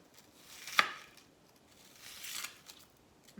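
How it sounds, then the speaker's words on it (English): A knife chopping onion into slivers on a board, a couple of sparse, quiet cuts with one sharp tap standing out, soft surrounding noise and no speech. "We are going to use this onion until there is nothing left to cut."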